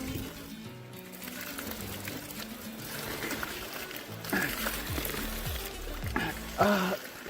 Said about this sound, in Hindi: ये जो पानी है यहीं से ही बह के आ रहा है